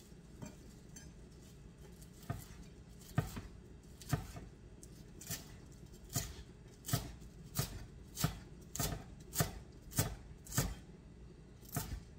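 Parsley chopped for a deviled ham and vegetable salad, a knife hitting a cutting board in sparse taps that settle into a steady, even rhythm of crisp close thuds.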